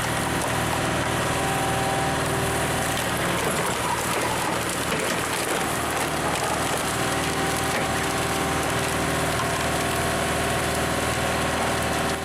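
A deep green wood splitter in a large timber yard, driven by an 80 HP turbo diesel engine, runs loud and steady throughout, its constant engine drone mixed with cracking and rubbing of timber.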